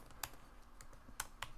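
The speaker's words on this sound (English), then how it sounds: "now I can type some words" Typing on a computer keyboard while adding text in Adobe Premiere, with a few sharp, close key clicks spaced irregularly over a quiet background and no speech.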